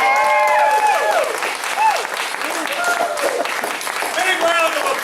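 Applause and cheering fill a martial arts belt ceremony at a family martial arts center, sustained steady clapping from a crowd with voices calling out over it.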